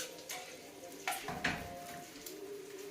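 Shrimp fry in a small frying pan, a faint sizzle broken by a few clinks and scrapes of a utensil against the pan, close and quiet with no talking.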